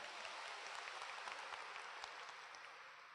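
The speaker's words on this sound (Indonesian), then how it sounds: "aplaus buat Anda semuanya" An audience in Bandung claps at a motivational event, dense steady applause from many hands at moderate distance, slowly thinning toward the end.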